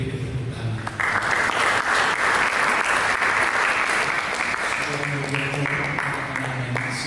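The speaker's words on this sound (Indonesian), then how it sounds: "Lagi lebih tepuk tangan." A church congregation at a Sunday service breaks into loud, sustained applause, clapping densely and evenly after a short lead-in, with voices and tonal sounds woven faintly under the clapping.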